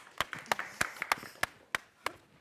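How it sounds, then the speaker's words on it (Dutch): Applause for the dance group Jazz It Up at a Kunstbende Limburg event, a small cluster of distinct, separate claps at an uneven rhythm, close and fairly sparse rather than a full crowd. "Mag nog 1 groot applaus voor Jazz It Up."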